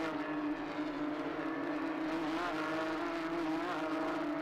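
Porsche Carrera Cup race cars running in a pack at Spa-Francorchamps, a steady engine drone with no clear single pass-by through the whole stretch.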